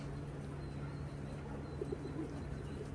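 Soft coos of racing pigeons at a loft come and go faintly over a steady low hum and background noise, with no talking.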